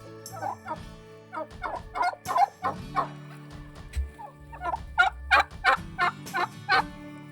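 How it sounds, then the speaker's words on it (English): Turkeys in a barnyard gobbling in repeated bursts, several loud close calls following one another over a low background hum, with no talking. "Hi, turkeys."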